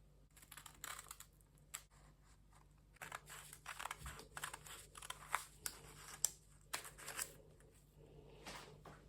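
Scissors cut through fabric to shape a double collar, giving soft, irregular snipping and rustling in a quiet room, closely miked and fairly faint with no talking.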